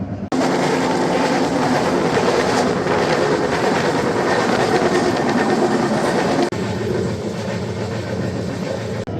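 Inside a moving Bengaluru Rajdhani Express 3rd AC coach, a loud, steady rumble of wheels on rails with faint clickety-clack, continuous and close, easing slightly near the end, with no talk.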